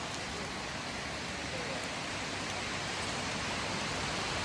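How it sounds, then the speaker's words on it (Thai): Heavy rain drums on a corrugated metal roof, a steady, dense and fairly loud roar with no breaks and no speech. "ฝนตกแรงมากครับ ที่ขม่วงเสียงดังมากเลยครับตอนนี้"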